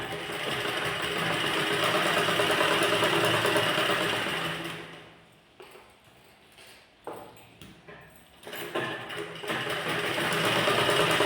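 Sewing machine top-stitching a blouse: a loud, close motor whir that stops midway, followed by a few short clicks and bursts before the stitching resumes steadily.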